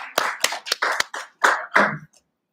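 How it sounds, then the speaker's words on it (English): A short burst of applause, several sharp clap clusters in quick succession from a small group, close and fairly loud, ending abruptly. "Give him a round of applause."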